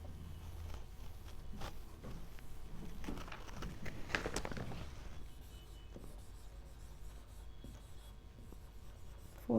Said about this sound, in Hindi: एक एक करके स्टेप्स को लिख देंगे फोटोसिंथेसिस का